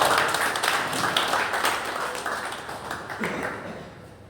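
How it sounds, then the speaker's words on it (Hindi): Villagers gathered at a chaupal in Rajli clap to welcome a JJP candidate, Dr. Anantram, with a dense burst of applause that slowly thins and fades. "डॉक्टर अनंतराम जी जोरदार तालियों से स्वागत।"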